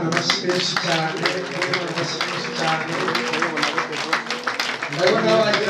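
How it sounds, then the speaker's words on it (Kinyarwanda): Inside a church, a congregation claps along in a dense, lively burst, with voices and singing mixed through the applause. "Dukomere Imana amashyi menshi cyane"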